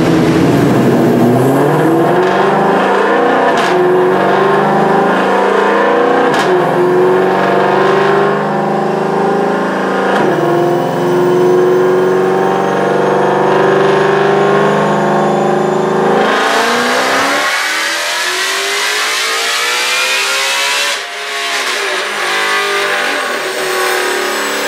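A supercharged car engine roars through a sustained dyno pull, its pitch climbing steadily with a rising supercharger whine, loud and close throughout, easing off near the end.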